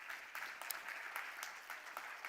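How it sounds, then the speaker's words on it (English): An audience at the XPRIZE Healthspan finalist announcement claps steadily, with a dense, even patter of many hands at moderate distance and no voices over it. "Big round of applause for our partners from UCSD and University of Utah."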